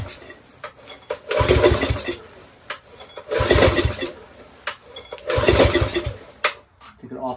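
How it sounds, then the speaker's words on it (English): A Briggs & Stratton 6HP Intek engine on a Generac pressure washer that sat outside for years is pulled over three times, each pull a rough, sputtering burst of cranking with quiet pauses between. "Let's just see if it starts up and runs out itself."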